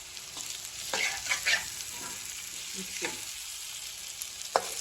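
Spiced pieces stir-frying in a pan, an even crackling sizzle broken by several scraping stirs of a spatula and a sharp clack near the end, heard close with no talking.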